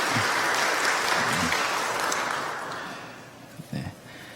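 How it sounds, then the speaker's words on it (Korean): Warm applause from a church congregation during a Sunday service welcoming returning members, steady clapping filling the room for about two and a half seconds, then fading out with a brief voice at the end. "여러분들 환영의 박수 부탁드립니다"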